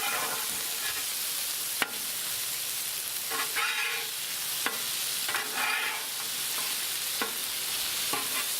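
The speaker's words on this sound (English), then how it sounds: "Let's give our sausage all a good little stir and flip." Chicken sausage sizzles steadily on a Blackstone griddle as it is stirred and flipped, with sharp metal spatula scrapes and clacks punctuating the continuous frying hiss.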